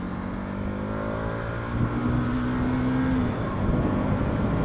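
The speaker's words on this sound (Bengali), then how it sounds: "গাড়ির ইঞ্জিনের আওয়াজ প্রচুর চেঞ্জ হয়ে গেছে" A Bajaj Pulsar NS200 motorcycle engine, overdue for servicing, runs steadily at close range with a droning hum that rises slightly in pitch partway through, and no speech over it.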